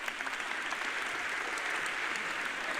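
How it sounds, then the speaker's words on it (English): Audience applause at a motivational talk, an even, continuous round of clapping heard from within the crowd, moderately quiet. "We give her the round of applause,"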